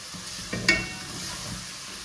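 A spoon stirs curd into biryani masala in a pan, soft scraping and a light sizzle with one sharper clink against the vessel, close and quiet with no talking.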